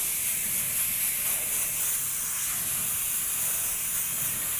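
An airbrush sprays paint onto a flaming skull design, giving a steady, unbroken close hiss that holds an even level from start to finish.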